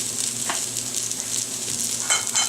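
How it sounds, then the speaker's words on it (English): Chopped onions sauté in hot vegetable oil in a pan, the first step toward a beef stock, giving a steady, close sizzle with soft crackles and a couple of brief stirring scrapes. "I want to saute up the onion"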